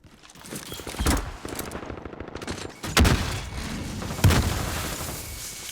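Video game firefight with grenade explosions and gunfire: rapid automatic shots and heavy booms build into three loud, dense bursts in a chaotic, continuous battle, with no talk.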